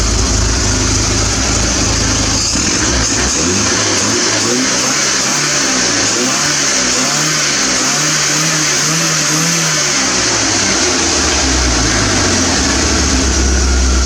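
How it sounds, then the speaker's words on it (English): A 1980 Triumph TR7 engine is revved alone at close range, its steady idle rising into one sustained climb in pitch and then dropping back toward idle. "I'll give it a little bit of a rev for you."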